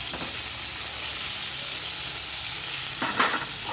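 A steak fries in a pan with butter, giving a steady, close sizzle throughout, with a few louder bursts of spatter and scraping near the end.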